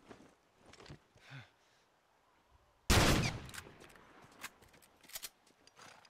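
A burst of gunfire rings out abruptly in The Last of Us video game, a loud crack followed by fading echoes and scattered clatter, preceded by quiet footsteps and movement.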